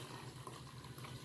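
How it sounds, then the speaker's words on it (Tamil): Water pours steadily into a bowl in a home kitchen while rasam is being made, a soft continuous splashing with no speech. "தண்ணியை ஊற்றி"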